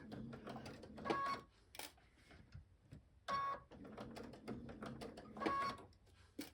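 A sewing machine stitches an Ohio Star quilt block with a 1/4 inch foot, running in short quiet bursts of rapid mechanical whirring and clatter, several separate runs with brief pauses.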